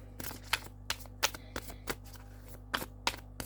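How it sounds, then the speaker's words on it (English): A deck of oracle cards being shuffled by hand, with a steady series of crisp riffling snaps repeated at irregular intervals, close and fairly quiet, no talk. "I'm shuffling backwards."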